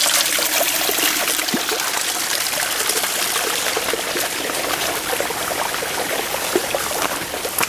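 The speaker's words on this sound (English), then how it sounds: "Beautiful river brook right across the stream, right across the trail." A brook at Yosemite Falls flows across a trail, its steady burbling and splashing close by and continuous, with small trickling accents over a constant wash of running water.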